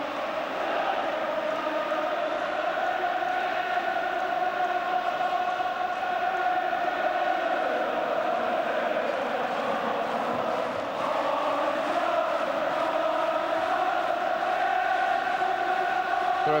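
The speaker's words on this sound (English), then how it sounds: "And the crowd rising to a crescendo now." Big football crowd at an England v Scotland British Home Championship match, a steady dense roar that swells toward a crescendo, filling the whole stretch without a break.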